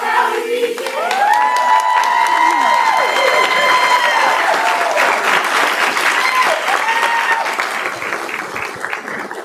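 A school board meeting audience cheers and applauds loudly for students of the Valley region, with shouts and whoops riding over steady clapping that fills the whole stretch before easing slightly at the end.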